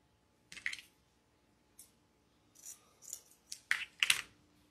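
Scissors snip through ribbon being cut to length for a double wreath bow, a few quiet separate cuts followed by a quick cluster of close snips, with no talking.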